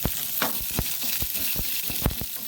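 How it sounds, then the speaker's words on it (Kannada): Onion and ginger frying in a pan for a capsicum chutney, a steady close sizzle with several sharp stirring scrapes spaced through it, no voices. "ಇಷ್ಟನ್ನು ಚೆನ್ನಾಗಿ ಫ್ರೈ ಮಾಡಿಕೊಳ್ಳೋಣ"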